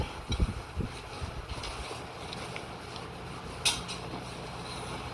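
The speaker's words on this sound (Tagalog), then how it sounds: "Hangin lang yan." Wind buffeting a microphone outdoors while clothes are ironed in Jeddah, Saudi Arabia, a steady rumbling gust noise with a few louder thumps near the start and a brief sharp knock partway through, no speech.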